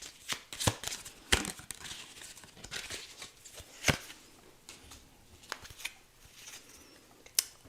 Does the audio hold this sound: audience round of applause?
no